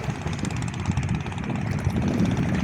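A small fishing boat with its engine running draws closer on a river, a steady low droning hum with a throbbing rhythm that holds throughout at moderate loudness.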